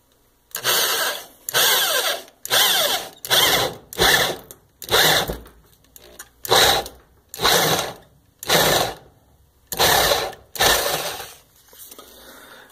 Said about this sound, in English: I'm just drilling a hole